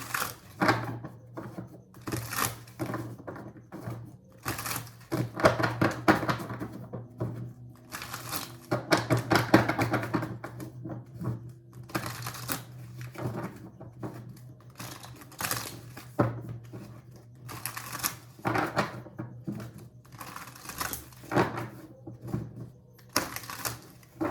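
Rapid papery riffling and soft clicks repeat in bursts, like cards being shuffled up close, with a steady low hum underneath and no voices.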